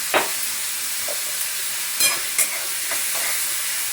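Onions frying in oil until reddish, a steady close sizzle and hiss filling the sound, broken by a few brief stirring scrapes in the pan.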